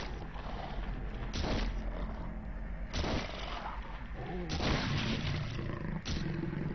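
Gunfire in the survival-horror game Silent Hill 3: four sharp, loud shots spaced about a second and a half apart, each ringing out over a steady bed of dark game ambience.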